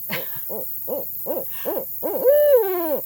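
Six quick hoots in an even rhythm lead into a long, sliding, quavering final hoot from a male owl, heard up close with no other sounds.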